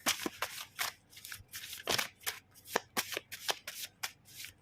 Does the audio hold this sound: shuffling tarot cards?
yes